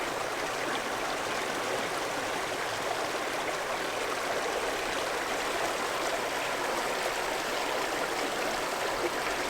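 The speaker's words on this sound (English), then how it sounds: "Running water turning into ice." Continuous rushing water of a mountain creek partly turning to ice, a steady broadband flow with no pauses, moderately loud and close.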